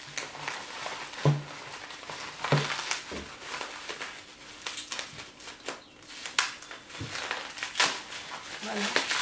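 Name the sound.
unwrapping a well-wrapped stone from paper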